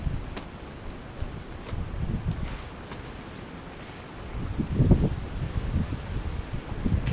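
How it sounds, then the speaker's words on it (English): Wind blows hard across a club lake used for carp fishing, a steady rushing roar with gusty rustling and microphone buffeting that swells louder toward the end. "This wind's really picking up now."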